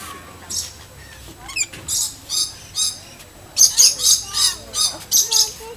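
Several pet birds in a home, squawking and chirping nearby in short, shrill bursts that come in quick, loud clusters, with a brief pause partway through, and no talk over them.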